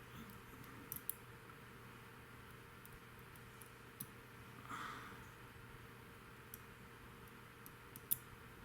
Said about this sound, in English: So I'm just going to go through and kind of start picking this thing right away.